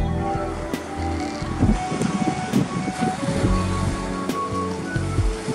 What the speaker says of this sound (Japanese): 今オフショアが強めに吹いてます。